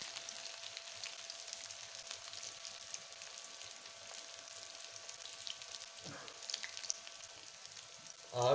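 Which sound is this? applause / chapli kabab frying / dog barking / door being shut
chapli kabab frying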